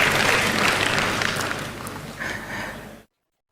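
An audience applauds at an Indonesian speech event, with dense clapping from a crowd that is loud at first, thins out gradually and stops abruptly after about three seconds.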